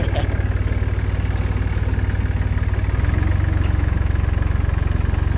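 A 68-horsepower tractor's heavy diesel engine idles with a steady, rapid low chug, loud and close, running unchanged throughout.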